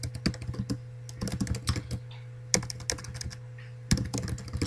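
Typing on a computer keyboard: quick irregular runs of crisp key clicks, close and clear, with brief pauses between bursts over a steady low hum.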